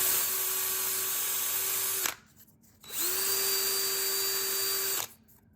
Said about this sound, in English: into the drill with some sandpaper to finish them up